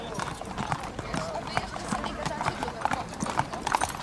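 Racehorse hooves clatter in a quick, uneven clip-clop at the start of a race, with seven horses setting off, heard close under a commentator's continuous talk.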